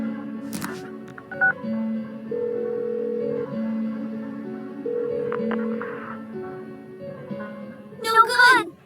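Telephone keypad dialing tones from Persona 4 Golden, a run of short steady beeps stepping between pitches, followed at the end by a brief bright electronic chirp.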